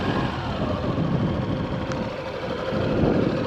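A motorcycle engine running at low revs with a little throttle, a rough, even mid-pitched rumble heard close that swells slightly near the end, without talk.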